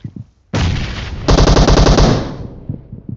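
Sustained automatic gunfire in a battle royale video game squad fight, loud rapid bursts after a brief pause, with a second heavier stretch of fire that fades out, close and with no talk.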